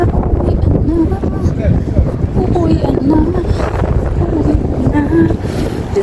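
Wind buffets the microphone in a steady, loud rumble outdoors on a windy commute home, with a voice speaking over it throughout.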